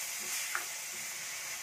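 Cooked dal lentils tipped into a hot pan, setting off a loud, steady sizzle and hiss with a soft wet stir in it, with no voices.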